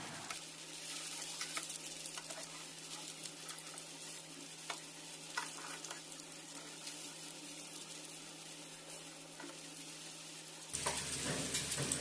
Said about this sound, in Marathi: दोन्ही साईडनी गोल्डन ब्राऊन कलर येईपर्यंत सुरमई फ्राय करून घ्या.